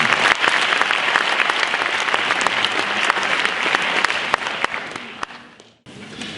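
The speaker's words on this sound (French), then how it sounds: "Je voudrais donc vous demander de l'applaudir chaleureusement." Warm audience applause at a diploma ceremony, a full, steady roar of many hands that thins out near the end, dips to near silence, then picks up faintly again.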